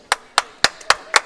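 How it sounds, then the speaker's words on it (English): A few people clapping for a shot in a pool match between Earl Strickland and Brian Deska at a memorial tournament, five or six distinct, fairly loud close claps in a loose rhythm. "As you hear the crowd erupt"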